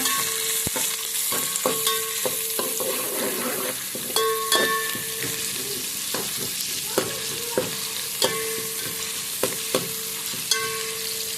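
Frying in a pan for a quick chicken masala gravy: a steady, close sizzle punctuated by sharp, regular clacks of a spoon striking the pan as it is stirred, roughly one every second.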